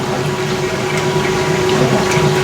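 A 1989 Maytag A512 Fabric-Matic washer running its wash cycle gives a loud, continuous churning hum with sloshing water, steady throughout and close, with no talking.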